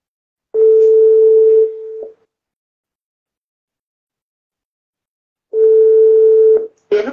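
Two bursts of a steady telephone dial tone, each lasting about a second and a half and separated by silence, with a short click or tone blip after each burst, heard while a call is placed to ring someone back.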